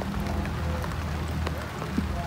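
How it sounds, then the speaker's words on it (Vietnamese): Heavy rain patters on an open rice-field bank where field crabs crawl, a close, steady wash of drops with a few small knocks and rustles. "Mưa quá mưa rồi"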